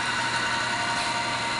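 A small electric motor powers the feed on a Woodward bead roller, giving a steady, even mechanical hum with no breaks or changes, up close and alone.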